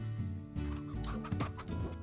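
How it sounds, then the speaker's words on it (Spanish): Chickens cluck in the Slime Rancher video game, a quick run of several clucks and squawks close up and clear, with no talking. "Uy, gallinas."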